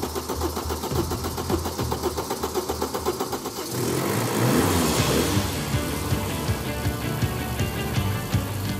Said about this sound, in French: Le 4 cylindres en ligne de la BM rugit à nouveau dans tout l'atelier